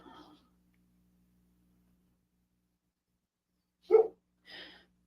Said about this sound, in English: Probably barking at the guy riding his dirt bike in the field